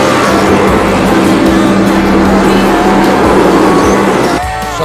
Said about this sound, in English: Dual burnouts by the brothers.